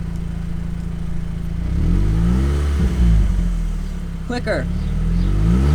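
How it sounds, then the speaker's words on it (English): A stock car engine revs up in two swelling bursts and then settles, loud and close, while a person speaks briefly over it. "Rev it? Do I want to rev it?"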